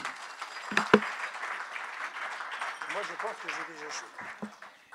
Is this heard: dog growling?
no